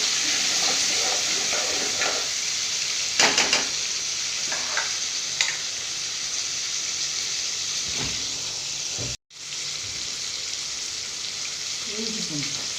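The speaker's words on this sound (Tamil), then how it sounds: "ஒரு சின்ன தக்காளியாக 2 தக்காளி போட்டு" Small onions, chili and tomatoes fry in a pan with a steady loud sizzle, broken by a few scraping stirs and clinks of a spoon, and one brief cut near the end.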